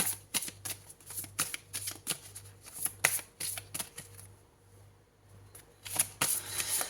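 Oracle cards are shuffled and drawn by hand in steady quick riffling bursts, close and fairly quiet, with a short lull before a final flurry.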